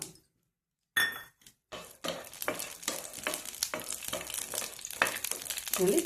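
Green chilies fry in oil in a pot, a crackling sizzle under repeated scrapes and clinks of a spoon stirring against the metal, close and busy after a short silent start.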